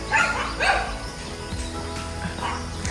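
Neighborhood dogs, among them Blondie and Red, bark in a few sharp yips on a morning street walk, moderately near against steady outdoor background noise.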